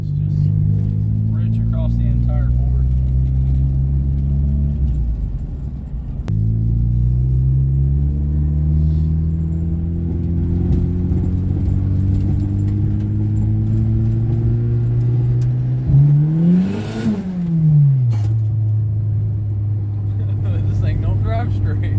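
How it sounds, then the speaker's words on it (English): Boosted car with freshly corrected timing running rich, its engine droning steadily from inside the cabin as it accelerates through gears, with a sharp rev swell near the end and a voice talking over it. "gonna go take it for a drive and see how it runs now that we fixed the timing issue"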